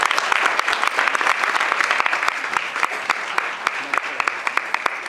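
Applause from an audience at a stage performance of a Hindi poem, a steady patter of many hands clapping, near and fairly loud, with voices talking through it.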